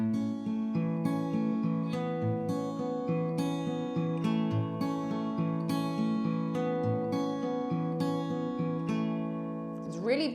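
Fingerpicked acoustic guitar playing the intro of a song at full speed, a bright melody ringing over rolling bass notes, played alone and fairly soft, fading at the end.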